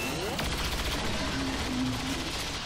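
Gunfire erupts in the XCOM 2 video game as a burst of rattling shots and clattering impacts, moderately loud, with a few sharp cracks and lingering tones mixed among the volley.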